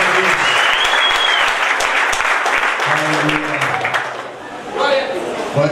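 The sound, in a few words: applause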